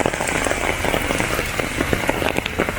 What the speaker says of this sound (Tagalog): Grabe, lakas na ng ulan.